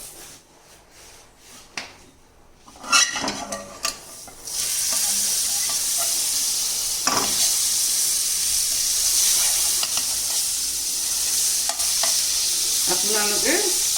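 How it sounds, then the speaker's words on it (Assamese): Bread toasting in Amul butter in a pan, starting with a few clinks and stirs before a loud, steady sizzle takes over and continues with occasional crackles and spatula scrapes. "বাটাৰ দি পেলাই এখন মই সেকি দিম।"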